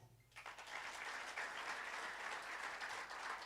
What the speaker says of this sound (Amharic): አንድ ጊዜ አጨብጭቡ